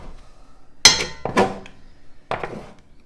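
A metal scraper works across the floured bottom of a well-seasoned cast iron pan, giving a few sharp clanks and short scraping bursts with quiet pauses between them.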